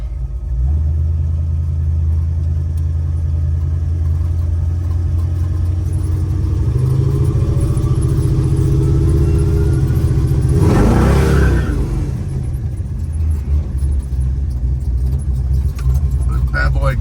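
A 1968 Chevrolet C10 pickup with a 468ci engine and six-speed automatic pulls away, its deep engine rumble swelling into a brief rev while keys jangle and people talk inside the cab.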